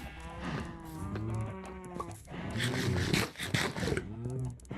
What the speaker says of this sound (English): am I now just stuck with the cows?